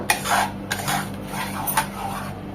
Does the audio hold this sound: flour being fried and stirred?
yes